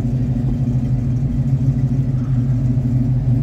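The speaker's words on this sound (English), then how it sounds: "Listen to that exhaust" A 1986 Chevrolet K10 4x4 pickup idles steadily with its choke partly on, a deep, loud, continuous exhaust rumble with a slightly uneven pulse and no talking.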